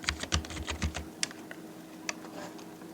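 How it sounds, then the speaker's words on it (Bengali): Computer keyboard typing text into graphic design software while laying out a business card: a quick, close run of clicking keystrokes for about a second, then a few scattered single key taps. "আমি এখানে টেক্সট টুলটি নিলাম এবং এখানে আমি লিখলাম রিমন।"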